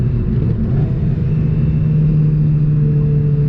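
Stock Honda Civic Si engine pulling hard in third gear, heard from inside the car as a steady, loud drone with a rising low hum throughout, no voices.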